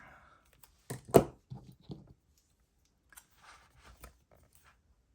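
Scissors cut a planner sticker: a few quiet snips and crisp paper cuts, close and faint, separated by short pauses in an otherwise quiet room.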